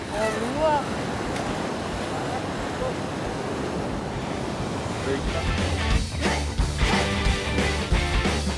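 Surf washes onto a beach, a broad roar of waves mixed with wind buffeting the microphone, swelling louder toward the end.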